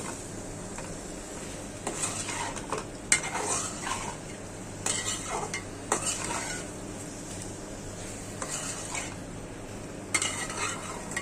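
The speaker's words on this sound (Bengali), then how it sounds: "পানি দেব না এখন, একটু কষায় নিই।" Beef chunks being sautéed and stirred in a home-kitchen pan with no water added, heard as a soft, low sizzle broken by intermittent scraping strokes of a spoon against the pan.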